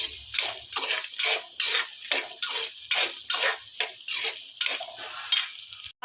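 Garlic, onion and curry leaves being stirred in a metal pan, a spoon scraping and clinking against the pan in a quick repeated rhythm, close and moderately quiet, with a light sizzle beneath.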